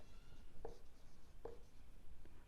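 Marker or chalk writing on a classroom board during a maths lesson, heard as two or three short scratchy strokes spaced about a second apart, faint over a low room hum with no speech.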